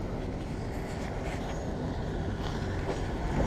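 Tram number 18 passes on a residential street in Dnipro's Livoberezhnyi-3 district, a steady rumbling roll with faint rail clatter that grows slightly louder toward the end, with no talk over it.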